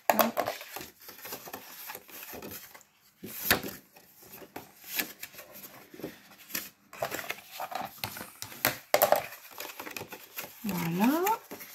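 Paper for a gift box gets its folds creased by hand, a series of soft scraping presses and dry crinkles with brief pauses between, close and fairly quiet under occasional talk.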